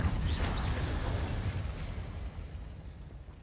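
A burst of fire from an Incendio spell in Hogwarts Legacy, a sudden whooshing flare that decays into a fading rumble over a few seconds, with no talk.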